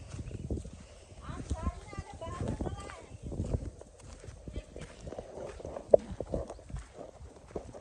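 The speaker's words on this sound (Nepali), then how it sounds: "यति सुस्तै हिँड्छन् बाख्रा।" Irregular goat hooves clop and shuffle on hard ground at close range, mixed with intermittent voices talking nearby.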